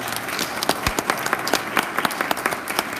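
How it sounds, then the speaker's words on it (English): A church audience applauds with a brief, lively round of many hands clapping at close range, crisp overlapping claps, with no talking over it. "Show them a round of applause if you enjoyed it."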